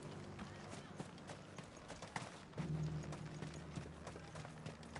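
Horse hooves clip-clop at a steady trotting rhythm in the video game Final Fantasy 16. The hoofbeats are moderately close and continue throughout, with game ambience underneath.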